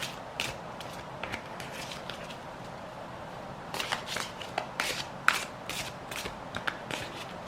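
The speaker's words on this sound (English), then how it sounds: "I'm going to shuffle as per normal." Repeated crisp riffles of tarot cards being shuffled, coming in quick bursts with short pauses between, close and fairly clear.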